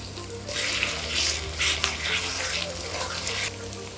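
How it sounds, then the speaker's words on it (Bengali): Water used to rinse a spice-grinding bowl is poured into a pan of onions, garlic and potatoes, giving a steady close splashing hiss mixed with sizzling that lasts several seconds. "মশলা বাটি ধোয়া জল"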